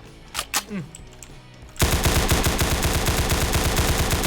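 Rapid automatic gunfire in a Roblox shooting game styled after CS:GO, bursting in suddenly after a few shorter sounds and continuing as a dense, loud, close, evenly spaced stream of shots.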